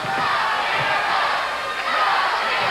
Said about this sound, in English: the crowd screaming, "Go, Bill, go."